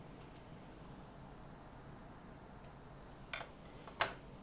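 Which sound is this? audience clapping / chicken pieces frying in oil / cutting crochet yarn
cutting crochet yarn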